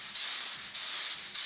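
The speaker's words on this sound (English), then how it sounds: "I loaded a kind of off-white in my gun to spray the bottom section of the car in an off-white." Paint spray gun laying an off-white coat on the lower section of a car, three bursts of loud, close, steady hissing with short pauses between them.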